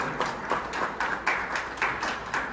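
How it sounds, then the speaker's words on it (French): Audience applause at a live Valentine's Day event with Carmen Sama and Didier Drogba, a steady wash of many hands clapping with rhythmic surges, moderately loud and without speech. "s'il vous plaît, on applaudit."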